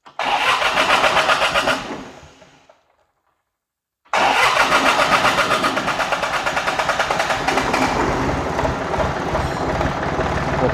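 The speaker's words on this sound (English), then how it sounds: "so right now I'm going to fire it up" A John Deere 855 tractor engine, recently pulled from a barn and with a hydraulics issue, runs loudly up close, then is cut off and goes silent for about two seconds before it cranks, fires and settles into a steady, rough idle.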